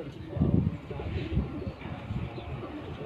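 A pigeon coos on a rooftop, low soft warbling bursts at close range, the loudest near the start and others following unevenly, with a voice talking faintly in the background.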